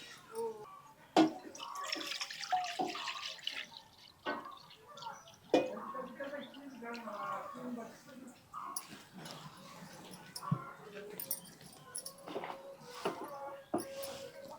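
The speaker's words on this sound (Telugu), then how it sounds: "దానిపై బాండీ పెట్టి దానిలో పాలు పోసుకోవాలి." Milk is poured into a kadai on a lit stove for making kalakand. Soft liquid splashing and trickling sit close by under ongoing speech, with occasional light clinks.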